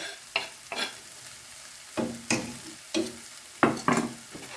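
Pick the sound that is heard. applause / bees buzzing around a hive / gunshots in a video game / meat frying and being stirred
meat frying and being stirred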